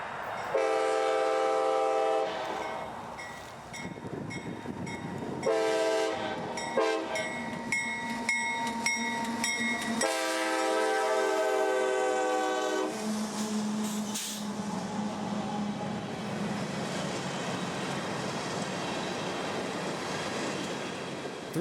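A long CSX freight train, number 371, with over 80 cars behind two locomotives, passes at Royster Mine Road near Mulberry, slowly accelerating. Its horn sounds loud and repeatedly in sustained blasts, with rumbling wheel and engine noise throughout.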